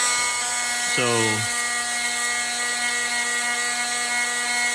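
A power sander runs along the edge of a wooden axe cross wedge, giving a steady, loud whine with a constant pitch, while someone briefly speaks over it.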